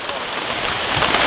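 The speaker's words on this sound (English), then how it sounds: "I don't know if you can hear that wind, don't know if you can hear the rain, but it's sideways stuff" Heavy sideways rain and gusting wind roar steadily around an outdoor wild-camping poncho shelter in bad UK weather, a dense continuous hiss with no pauses.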